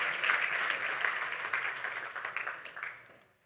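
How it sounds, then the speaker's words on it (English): At a Zabbix tech conference, the audience claps in a round of applause for community contributors, moderately loud and slightly distant, thinning out and dying away at the end. "Let's have a round of applause for these here contributors."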